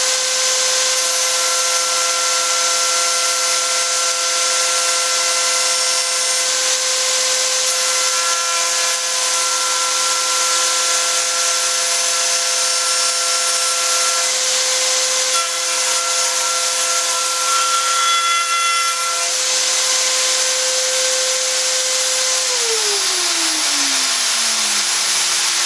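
Router spinning in a no-budget workbench with a vacuum cleaner hooked up for dust, a loud steady high whine with bright tonal lines, then the pitch sweeps down as the motor winds down near the end.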